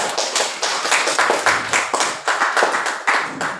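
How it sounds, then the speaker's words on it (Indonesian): Audience clapping for a student group's classroom presentation, a steady run of close, dense handclaps lasting throughout with no talk over it. "Oke, tepuk tangan untuk kelompok 5."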